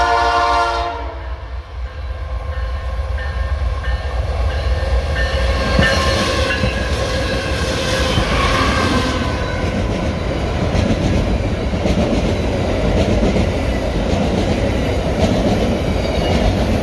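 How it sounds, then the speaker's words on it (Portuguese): An empty grain freight train rushes past at speed, a horn blast opening into a loud, steady roar of rolling wagons and rail clatter sustained up close. "Pessoal, esse é o trem de grãos vazio."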